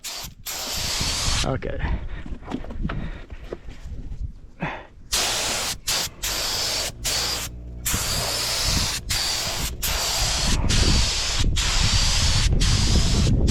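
A spray gun lays a coat of paint on a Honda Civic being repainted, giving steady hissing bursts broken by short pauses between passes. A voice speaks briefly.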